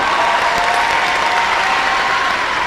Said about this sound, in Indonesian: tepuk tangan buat Cahya.